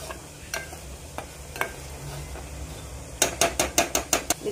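Masala roasts in a pan with a soft sizzle and a few scattered spoon scrapes, then a quick burst of rapid rhythmic scraping near the end.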